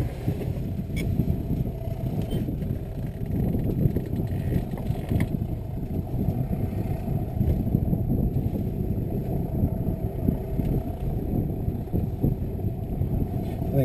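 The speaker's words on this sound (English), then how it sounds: "He's going to let the motor warm up a bit, he said." A motor glider's engine idles on the ground while warming up, a steady low rumbling drone with constant wind buffeting on the microphone, holding without change throughout.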